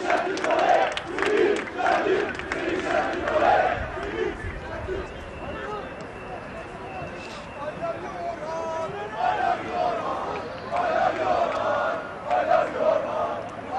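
Football fans chant a player's name, Orhan Şam, from the edge of a training pitch, rhythmic bursts of massed voices rising and falling in waves, mid-distance, with quieter crowd murmur between chants.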